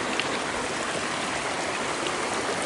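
Creek water flowing over an obsidian-filled streambed at Davis Creek, a steady close rushing and trickling with no voices.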